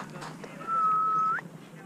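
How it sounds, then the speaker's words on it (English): A person on an Iceland trip whistles a single long, steady, high note to call seals, rising sharply at the end, heard clearly over faint outdoor background noise and quiet talk. "Trying to whistle them over."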